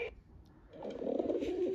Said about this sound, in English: Rock dove.